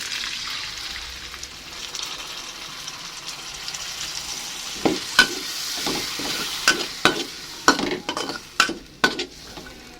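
Oncom frying in a pan is stirred with a utensil, a steady sizzle underneath and a run of sharp scraping clinks that grows busier toward the end.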